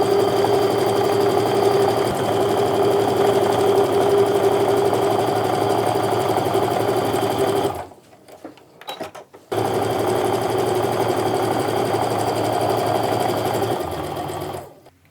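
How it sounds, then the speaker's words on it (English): A sewing machine stitches a quilt row with a steady, close mechanical whir, stopping briefly for a few scattered clicks partway through before running again and then tapering off. "continue sewing your row together until it's all done"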